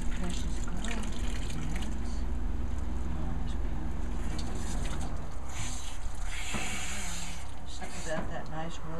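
Warm water is poured over a dog, running and trickling steadily, splashing softly throughout, with a person talking gently over the flow.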